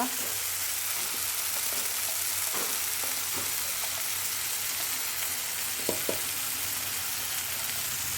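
Spices including pepper, chilli powder, Kashmiri chilli, chicken masala, turmeric and coriander fry in a pan, giving a constant hissing sizzle with a few light scrapes of mixing scattered throughout.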